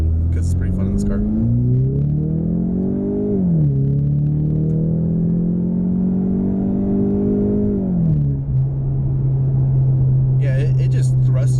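Ford Mustang EcoBoost pulling hard from the cabin, a steady engine drone climbing in pitch through gear changes, with someone talking over it throughout.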